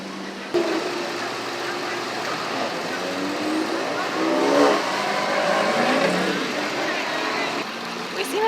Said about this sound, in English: Look at this truck.